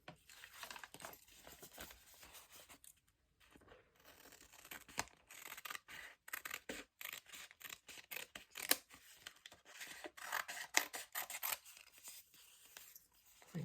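Scissors cutting out a piece of paper for a junk journal, a close run of crisp snips and rustling paper with short gaps, fairly quiet and without talking.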